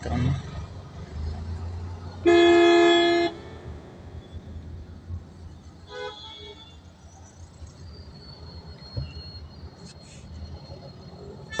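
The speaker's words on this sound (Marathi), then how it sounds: "दिसत आहे तुम्हाला ट्रॅफिक लागलेलं आहे" Steady city traffic-jam rumble with one long, loud horn blast early on, followed by fainter honks and engine noise in the distance.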